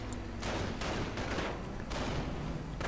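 A Sd.Kfz. 251 half-track fires its machine gun in a war video game, with bursts of rapid gunfire repeating over a rumbling battle background, moderately loud and without speech.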